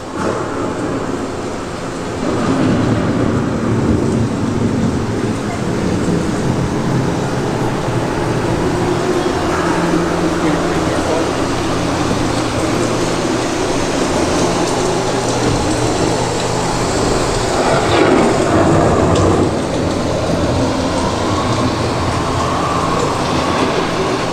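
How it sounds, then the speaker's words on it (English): Loud, steady rumbling wash of the ride's thunderstorm effect on Epcot's Living with the Land boat ride, a continuous dense roar with slight swells throughout, no speech. "The approaching storm may seem violent and destructive to us, but to nature, it's a new beginning in the cycle of life."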